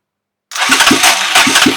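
A 200cc mini-bike engine cranks on its electric starter motor after a short silence, with rhythmic chugging bursts as it catches and begins running loudly up close.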